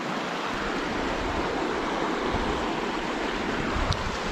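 A Montana creek rushes steadily and fairly loud, a broad continuous wash of flowing water with no voices over it.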